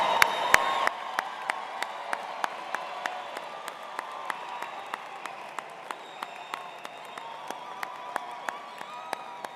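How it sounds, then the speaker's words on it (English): Audience at a spring 2024 college of engineering commencement ceremony claps for the graduating class, a steady wash of applause in a large hall with sharp individual claps standing out throughout. "Now let's give all the class of 2024 a round of applause."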